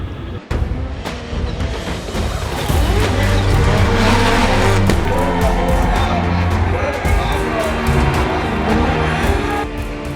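At Formula Drift Long Beach, a drift car accelerates hard in first gear, its loud engine roar rising alongside squealing tires and a crowd in the background, while an excited commentator talks over it.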